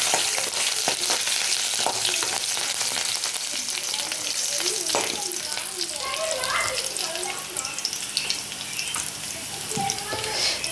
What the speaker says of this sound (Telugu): ఇలా వేగాక కరివేపాకు వేసి కలుపుకోవాలి.